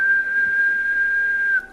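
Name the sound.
person whistling through puckered lips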